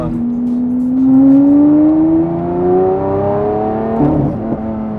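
A Lamborghini Aventador engine tuned to 850 hp revs with a rising whine that climbs steadily in pitch, ending in a few sharp exhaust pops and crackles as the exhaust shoots flames.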